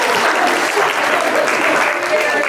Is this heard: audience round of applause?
yes